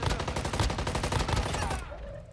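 Rapid automatic gunfire from the Shimo weapon in Warzone Mobile, a fast even string of loud close shots lasting under two seconds before cutting off.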